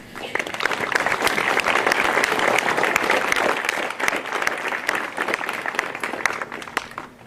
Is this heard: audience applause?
yes